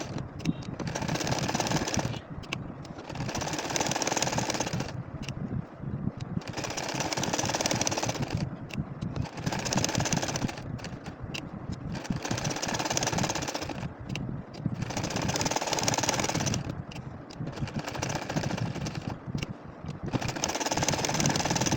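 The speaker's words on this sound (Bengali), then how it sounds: "এখন আবারও এর সাইড দিয়ে দেখো সেলাই করে নিচ্ছি" An ordinary domestic sewing machine stitching a nakshi kantha quilt runs in repeated bursts of rapid, whirring needle chatter, several seconds each, separated by short pauses, close and steady with no talk.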